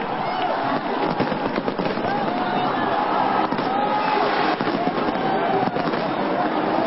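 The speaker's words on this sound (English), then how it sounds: "There's a haze around the ground at the moment as the fireworks go off." Fireworks go off over a cricket ground during a celebration of Sri Lanka's T20 World Cup win, a dense, continuous crackle and rumble of bursts mixed with a roaring crowd and a commentator talking over it.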